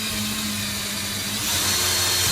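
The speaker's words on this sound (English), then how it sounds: "I have the 1/4 inch drill bit right here. I am going to drill it right here." A power drill boring a hole with a 1/4 inch bit while installing an under-sink reverse osmosis water filter, a steady close whine and motor hum that grows a little louder partway through.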